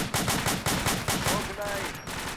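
Machine gun fire in the military shooter ArmA II: rapid, evenly spaced bursts, loud and close, hammering steadily for a couple of seconds with faint voices underneath.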